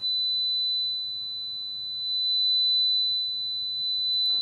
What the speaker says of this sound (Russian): 4 кГц.